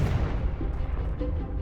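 A Confringo fire-blast spell goes off in the game Hogwarts Legacy, a booming explosive burst with a rumbling tail that rolls on under low, continuous combat noise for under two seconds.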